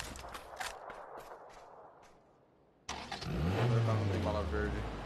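A car engine in a video game starts and revs up loudly midway, following a stretch of scattered footsteps and clatter, with the engine drone then holding steady near the listener.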